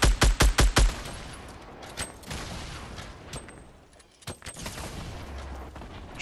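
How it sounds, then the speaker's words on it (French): Gunfire in Fortnite opens with a fast burst of five loud, evenly spaced shots, followed by scattered fainter single shots and other game noise. "Ça me tire dessus."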